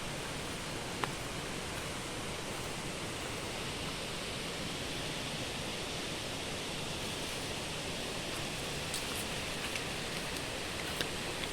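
Steady rain falls evenly, a soft continuous hiss with a few faint drips and ticks standing out now and then.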